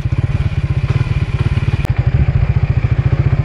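A motorcycle engine runs close by on a rural road, its low, rapid exhaust pulses thudding steadily and loudly throughout with a brief click midway, no talking.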